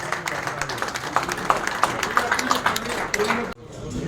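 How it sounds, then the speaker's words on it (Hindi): An audience at a welfare association camp event claps to welcome guests, lively steady applause with distinct individual claps, cutting off abruptly near the end. "आप सब जोरदार तरीके से तालियां बजाएंगे, स्वागत कीजिए प्लीज।"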